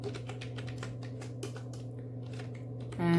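Quick, steady keystrokes rattle across a computer keyboard as HTML code is typed, a dense run of close clicks over a constant low hum, with no talking.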